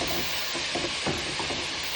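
A spoon stirring grated frozen coconut into a mixed vegetable stir-fry in a hot pan, with a steady soft sizzle and scraping broken by a few brief clinks, close and continuous for the whole stretch.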